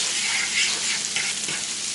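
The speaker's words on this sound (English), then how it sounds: "continue to cook that till that white wine deglazes the bottom of the pan and is absorbed by everything else" White wine sizzling and deglazing the bottom of a pan for tartiflette, a loud close hissing bubble that stays constant with slight swells, no voices.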